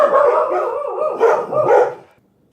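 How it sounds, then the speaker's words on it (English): A dog barks and howls loudly and close by in a continuous burst of rough, wavering yelps lasting about two seconds, then silence. "So sorry about the barking."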